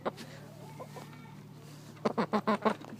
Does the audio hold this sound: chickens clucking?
yes